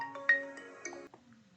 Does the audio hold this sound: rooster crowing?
no